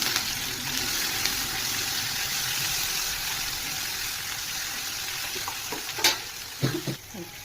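Curry leaves and chopped tomato sizzle and fry in a hot pan with a steady close hiss, broken near the end by a few sharp stirring scrapes and clatters.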